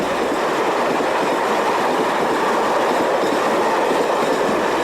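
A Portuguese broad-gauge intercity train rolls past, a loud, steady rumble of wheels on rail with faint clickety-clack throughout and no voices.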